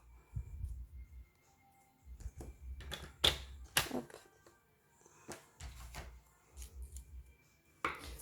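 Paper card is creased into folds by hand, giving sharp crisp snaps and scraping strokes in short bursts against a quiet background.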